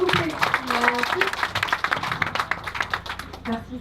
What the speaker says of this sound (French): Beaucoup plus d'applaudissements s'il vous plaît.